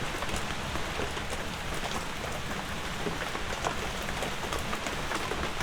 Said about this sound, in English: the heavy rain is the only one that I really struggle with